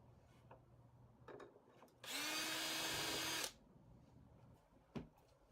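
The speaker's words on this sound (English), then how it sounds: "I'm going to put a screw in on this side, and then I'm going to repeat on the other side" A power drill whirs steadily for about a second and a half, driving a screw into the handle of a wooden cooler deck box, loud and close against a quiet room with a few faint knocks before and after.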